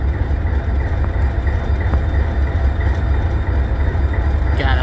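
An SD40-2 diesel locomotive rolls past at a railway museum's Diesel Days event, a loud, steady, close rumble of engine and wheels that holds without letup.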